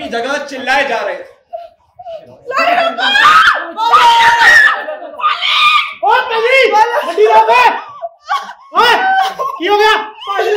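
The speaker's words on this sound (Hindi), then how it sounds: "सभी अपनी अपनी जगह चिल्लाए जा रहे थे।" Actors in a Hindi stage play about the Partition shout and scream together in a loud, chaotic clamour, overlapping cries and shrieks with bursts of shrill laughter, nearly continuous with only a brief lull.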